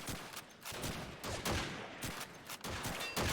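Gunfire in the video game Call of Duty 2 during a tournament match, rapid bursts of sharp shots in quick succession, loud and close, cracking repeatedly in an uneven rhythm.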